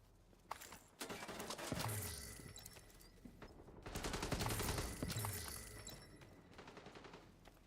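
Gunfire from a console shooter during a push toward a control point, with bursts of rapid shots and mechanical clatter building to two loud, dense volleys amid game noise.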